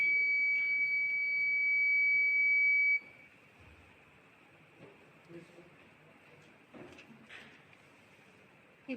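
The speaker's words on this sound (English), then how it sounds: "the buzzer alarms and shows an abnormal status" A steady high-pitched electronic buzzer alarm from a glucose monitoring system sounds for about three seconds, then cuts off, leaving quiet room noise with a few soft clicks and movements.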